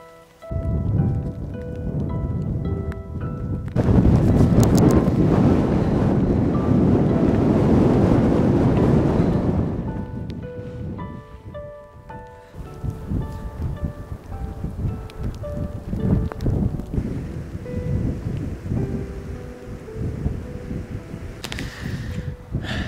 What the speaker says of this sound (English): It's freezing cold, it's raining the whole day, and my whole backpack is wet.